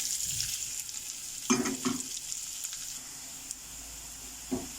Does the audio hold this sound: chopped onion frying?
yes